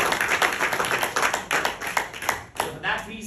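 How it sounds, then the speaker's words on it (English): An audience at a healthcare professionals' event claps for the Prime Minister, distinct uneven hand claps at moderate distance, with a voice talking over part of it. "we can give a big round of applause to our Prime Minister"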